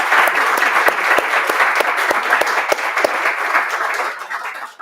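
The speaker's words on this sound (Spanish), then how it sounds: "Le pedimos a todos un aplauso" An audience at a book launch applauds steadily, many hands clapping together in a dense, even wash that carries on for several seconds before thinning near the end.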